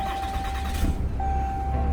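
A 2021 Ram 2500 Laramie pickup truck idles with a low, steady engine rumble, close by, alongside a faint constant tone and a brief soft click partway through.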